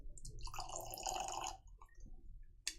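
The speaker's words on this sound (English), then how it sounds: "let's get this thing poured" Longrow 14 Sherry whisky poured into a glass, a close liquid gurgle and splash lasting about a second and a half, then a few trailing drips and a small clink.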